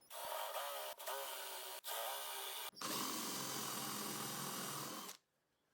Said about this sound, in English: we'll use this 10mm spade bit to drill countersink holes for the screws